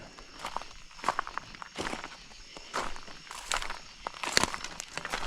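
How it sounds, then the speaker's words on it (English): Heavy footsteps crunch and rustle through dry brush at night, about one stomp per second, close and fairly loud, with crackling leaves and twigs underfoot. "Hoping they hear me stomping and talking"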